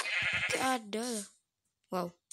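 Sheep bleating in the Minecraft video game: a couple of wavering bleats come right after a person speaks, followed by a brief exclamation.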